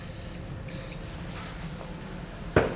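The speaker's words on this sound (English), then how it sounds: "we'll spray some spray lubricant on there. Silicone spray will make it much easier to get these removed" Silicone spray lubricant hisses from an aerosol can in a few short bursts onto the rubber exhaust hangers under a 2020 Hyundai Palisade, close up, followed by a brief clunk.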